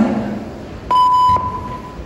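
A debate speaking timer gives one clear electronic beep, about half a second long, over a quiet hall.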